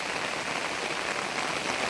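Heavy rain falls in a steady, dense hiss that drums evenly on surfaces with no pauses, loud and close throughout.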